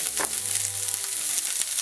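Chopped onion for samosas sizzling and frying in a pan, a steady close crackle with a few stirring scrapes, no voices.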